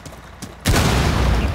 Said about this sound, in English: Did you throw a grenade, crazy?